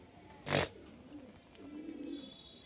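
Pigeons give two soft, low coos at a distance, heard faintly after a brief sharp noise near the start.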